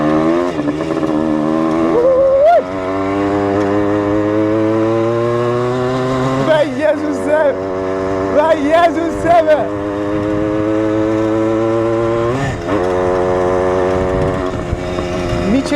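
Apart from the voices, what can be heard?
motorcycle engine while riding out of city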